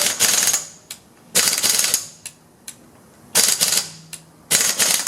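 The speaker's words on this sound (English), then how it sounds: "If you do have a lug wrench, a pneumatic one, you go one direction" Bursts from a pneumatic lug wrench flipped back and forth on a frozen lug nut, short loud rattling hammer bursts of about half a second, separated by pauses and a few faint clicks.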